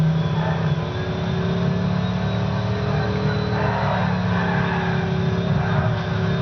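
A car engine in the Midnight Club LA video game drones steadily while held in third gear, a constant mid-level hum with faint tonal whine and no clear gear changes.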